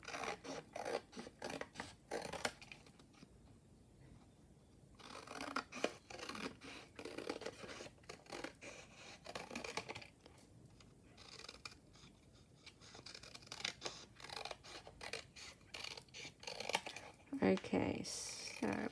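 Scissors snip and trim through cardstock while cutting a sheet into twelve narrow cards, the close crisp cuts and rustling of card coming in repeated bursts with a person talking over much of it.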